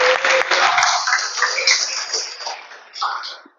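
A church congregation claps their hands for the Lord in a dense, hissing wash of applause that stays strong for a few seconds, then thins, swells briefly and stops.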